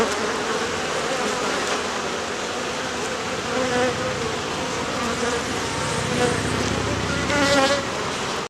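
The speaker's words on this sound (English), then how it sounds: "that's why these bees are so active" Honey bees buzzing around hives in an apiary on a warm day, a dense continuous drone of many wings close by, swelling slightly at moments, with no talking.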